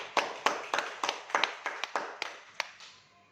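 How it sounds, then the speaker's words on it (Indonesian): A small group clapping in an Indonesian classroom, about ten sharp, separate claps in an uneven rhythm that slows and fades near the end. "Terima kasih Bu Eka, tepuk tangan buat Bu Eka."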